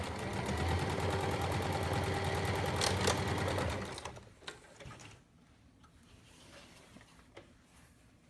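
Sewing machine stitching a pintuck panel runs fast and close for about four seconds, a dense rapid mechanical whir, then stops, leaving quiet room tone with a few small clicks and handling sounds.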